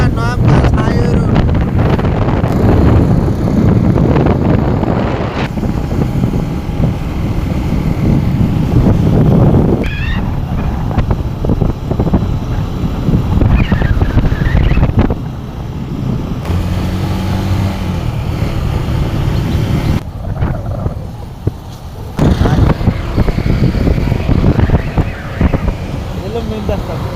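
Traffic and wind on the Dhaka Nawabganj highway, with heavy wind buffeting the microphone over a steady roar of passing vehicles, close and loud throughout, with someone talking at times.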